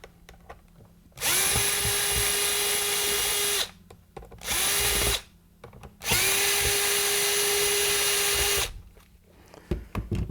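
A power driver whirs loudly in two long bursts with a short burst between, backing screws out of the plastic case of an Amprobe AM-140-A digital multimeter; a quiet room surrounds the motor.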